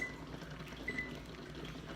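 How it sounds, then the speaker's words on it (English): Water bubbles at a steady boil in a pot of eggs, a soft, continuous gurgling hiss with faint occasional clinks. "So the eggs are boiling"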